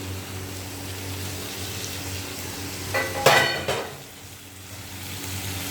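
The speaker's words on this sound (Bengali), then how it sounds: "মশলাটাকে কষাতে থাকবো। এর মধ্যে খাসির চর্বিগুলো দিয়ে দেবো।" Spice paste frying with goat fat in a pan over a low gas flame gives a steady, soft sizzle while it is stirred, with a short burst of metal clatter and scraping near the middle.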